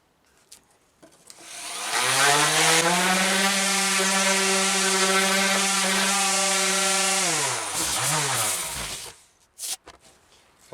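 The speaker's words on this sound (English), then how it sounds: "Let's sand it one more time and get all those little" A power sanding tool smooths the frayed edges of a wooden deer antler mounting plaque, a loud steady motor whine that spins up, holds for about five seconds and winds down, with no talking.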